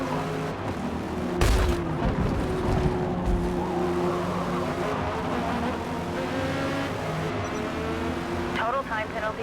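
Race car engines in Forza Motorsport during a Power Tour Cup race: a steady loud engine drone with a sharp impact near the start and tire squeals toward the end, while a person talks over it.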